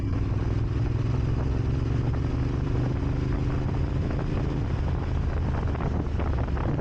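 A Moto Morini X-Cape 1200 motorcycle engine runs with a steady, smooth low rumble under heavy wind buffeting on the microphone, revving gently without sharp jumps while accelerating from low RPM.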